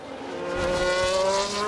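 A Formula 1 car spinning out in the F1 Manager 22 racing game, with a rising engine drone and a thin tonal tyre squeal building to a steady loud level over under two seconds, no voices.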